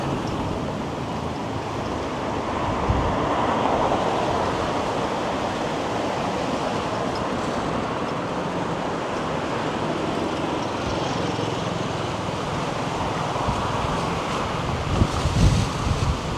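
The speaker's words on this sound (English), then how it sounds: "The wind is just insane today." Strong wind on a Toronto city street around Yorkville roars into the microphone as steady, loud, broadband buffeting that never lets up.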